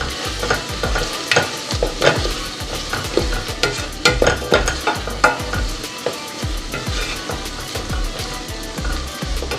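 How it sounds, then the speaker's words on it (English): Onions sautéing in a pot for pumpkin soup, a steady close sizzle broken by repeated scraping stirs and spoon knocks at an uneven rhythm, with no talking. "saute them until they're translucent"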